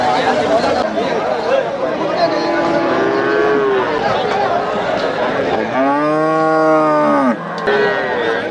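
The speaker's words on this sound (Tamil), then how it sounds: "இது நாட்டு மாடாண்ணா? நாட்டு மாடு." Native cattle at the Melapalayam cattle market moo loudly and close by, two long drawn-out calls standing out over the busy chatter and talk of the crowd.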